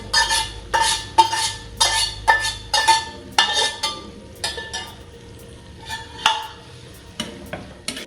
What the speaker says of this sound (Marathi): आता याला तेल सुटेपर्यंत आपण परतून घेणार आहे